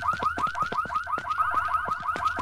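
A car alarm in the video game No One Survived wails in a rapid repeating warble, loud and close, cycling steadily with no voices over it.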